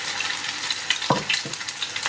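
Bread slices soaked in cream sizzle steadily as they fry in hot fat, with a constant crackle and a few sharper pops and spatters rising above it, close up and with no talking.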